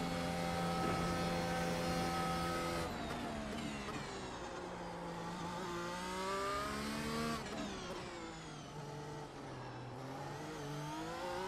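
A race car engine in Project Gotham Racing on the Long Beach circuit revs loud and continuously, its pitch climbing through gears, dropping at shifts and rising again as the throttle is held open.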